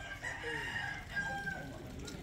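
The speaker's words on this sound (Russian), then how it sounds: "А вот этот петух типа будильника." A rooster crows faintly in the distance at a family home on Bali, one quiet drawn-out call over low background noise.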